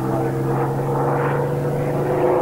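A Messerschmitt 109 fighter's propeller engine drones in a loud, steady hum with a strong low tone and slight wavering, continuous and close throughout.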